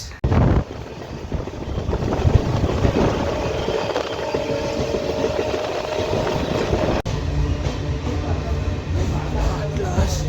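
A passenger train running on rails near Chikkaballapur, a loud continuous rumble with rhythmic clatter of wheels over track joints, sustained and close throughout.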